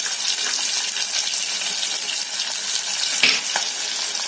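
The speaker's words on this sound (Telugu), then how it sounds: "ఈ ఆనియన్ మరీ ఫ్రై అవ్వక్కర్లేదు, కొంచెం అయితే సరిపోతుంది" Onions fry in a pan with a steady, dense sizzle that stays loud and close throughout, broken by a brief clink or stir near the end.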